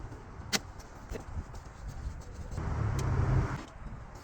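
An Audi A1 idles quietly, then its exhaust gives one short, low rev that swells for about a second before dropping back, with a few faint clicks and knocks around it.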